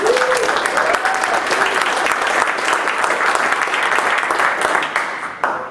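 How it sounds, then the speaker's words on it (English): Audience at a 1 Million Cups Wichita business pitch event applauds a speaker from Wichita eSports with dense, steady clapping from a room full of people, loud and sustained before it tapers off; a brief voice is heard early on. "Let's give him a round of applause."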